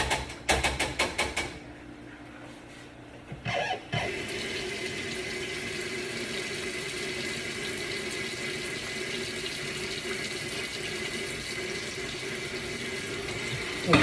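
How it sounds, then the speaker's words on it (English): Tap water runs steadily into a kitchen sink as butter is rinsed off, a continuous close rushing splash that begins after a few seconds of handling noise and carries on without talk. "Just rinse the butter off."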